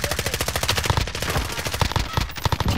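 Rapid automatic gunfire in a shooter video game, a dense rattling burst of shots that runs continuously and loudly, close up with no pause.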